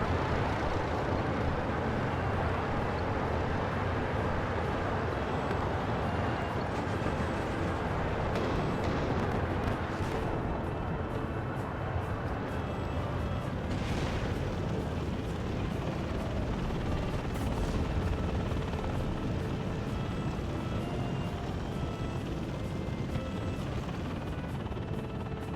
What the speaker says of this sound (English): here you guys are going to see some slow motion drops from the bombers